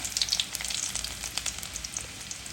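Chopped garlic sizzles and crackles in hot oil in a pan, a close, continuous frying hiss with bright popping bursts at the start that settle into a steadier, softer sizzle.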